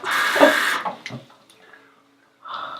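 Tap water runs into a cup in a bathroom, a loud steady gush for under a second, then faint clinks and a short second burst of flow near the end.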